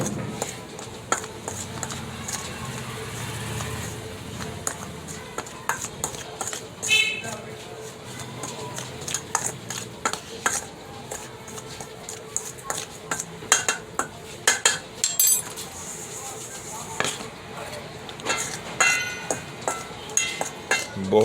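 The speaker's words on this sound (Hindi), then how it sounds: "उन्होंने अच्छी तरह मिक्स करने हैं।" A spoon stirring and mixing a home remedy mixture in a bowl, with repeated clinks and scrapes in an irregular rhythm, close up, while a person talks over it.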